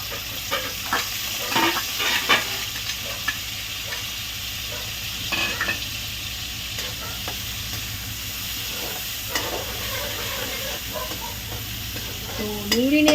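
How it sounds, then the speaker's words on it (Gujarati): Finely chopped onion hits hot oil seasoned with asafoetida, giving a steady sizzle under repeated scraping and stirring clatter from a spoon in the pan, close and fairly loud. "ઝીણી સમારેલી ડુંગળી નાખીશું"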